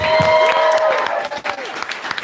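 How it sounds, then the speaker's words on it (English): A crowd at Share Brewing Company in New Hampshire applauds the hosts, steady clapping filling the room for a couple of seconds with voices mixed in. "Let's give them a round of applause."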